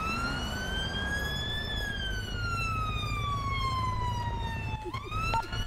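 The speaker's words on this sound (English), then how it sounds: "Turn sirens off, Wiz." A loud wailing siren sweeps slowly up and down, steady and close, with engine rumble underneath and no talking.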